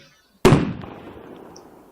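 A single sharp firecracker bang under pots, loud and close, followed by a brief ringing, rattling decay.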